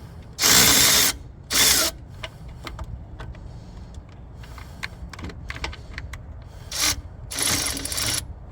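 Ratchet on a short extension working a starter bolt on a 2012 Honda CR-V, two loud bursts of rapid clicking followed by quieter intermittent clicks and a final longer ratcheting run, close up with no talking.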